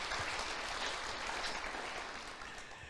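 Crowd applause at a church gathering on the autumn feasts, a broad steady patter of many hands that stays fairly faint and distant, easing slightly toward the end.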